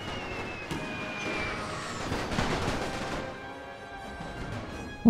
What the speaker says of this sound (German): Schieß mit der Artillerie da drauf.